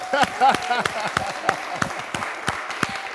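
A church congregation bursts into applause, sharp irregular claps of moderate density coming from a room full of people, with a voice speaking over them at first.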